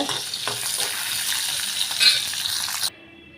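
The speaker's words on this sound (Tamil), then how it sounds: "இப்போ ஒரு பத்து சின்ன வெங்காயம் சேர்த்துக்கிறேங்க அது கூடவே ஒரு மூணு காஞ்ச மிளகா சேர்த்துக்கிறேன் லைட்டாக வதக்கி எடுத்துக்கலாங்க" About ten small shallots and three dried red chilies sautéing in hot oil, a loud, dense, steady sizzle with faint stirring scrapes that cuts off abruptly near the end.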